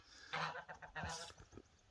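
Several geese honk in quick, uneven bursts, close by and fairly quiet, with a few harsh, nasal calls overlapping.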